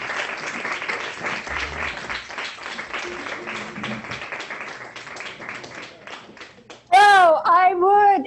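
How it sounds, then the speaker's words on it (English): An open-mic poetry audience claps for a poet, a sustained rattle of many hands with distinct individual claps. It ends in a loud, close burst of talking about seven seconds in. "Please put your hands together for Cherie Hanson"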